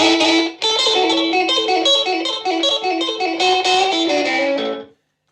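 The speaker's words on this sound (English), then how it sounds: "Echo pedal on with the volume on full in the middle." Electric guitar played through a 1974 silverface Fender Champ practice amp with an echo pedal, middle pickup and volume on full, a bright, busy run of picked notes with echo trails, stopping briefly near the start and then ringing on alone.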